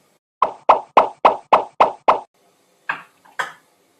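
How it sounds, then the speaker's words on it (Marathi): Modaks made from wheat-flour dough are set one after another onto a ghee-greased steamer sieve. Seven soft, evenly spaced plops sound in quick succession, then two more follow after a pause. All are close and clear, with no talk. "जेवढे ह्याच्यात बसतील ना तेवढे मी मोदक वरती ठेवते"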